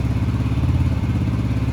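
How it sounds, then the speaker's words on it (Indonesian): A motorcycle engine idles loud and close throughout, a steady low rumble with a throbbing pulse, used as background noise for a phone call test with a budget Lenovo SH1 Bluetooth headset. "Nah, sekarang tambah suara motor nih, kurang lebih seperti ini"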